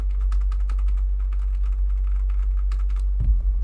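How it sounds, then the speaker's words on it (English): Rapid clacking keystrokes on a mechanical keyboard fitted with Cherry MX Black switches, close and distinct with an uneven typing rhythm over a low steady hum, and a brief bump near the end. "So I go back to my old keyboard, the Cherry MX Blacks. So loud."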